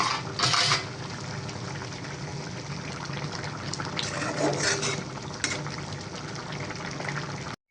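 Broiler chicken curry with bay leaf, cardamom and cinnamon bubbles steadily in a pot at a rolling boil, a continuous close hiss and gurgle with no voices.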